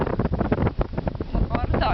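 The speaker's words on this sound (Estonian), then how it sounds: "Tuul on nii vali." Strong wind blasting across an open tower top, loud gusty buffeting rumble on the microphone, with people talking over it.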